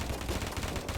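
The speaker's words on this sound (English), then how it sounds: "I'm using my launcher right now." A launcher weapon fires in a video game, giving a dense run of loud, rapid bursts that blur into a continuous barrage over about a second, with no voices.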